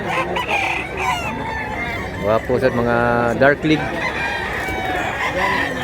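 Roosters crow from several directions at a hill-raised gamefowl farm, one clear cock-a-doodle-doo standing out amid clucking and background birds while someone talks.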